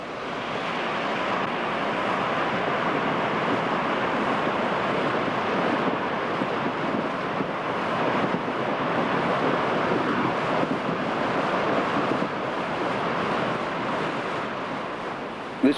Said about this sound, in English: it makes for some very spectacular white water.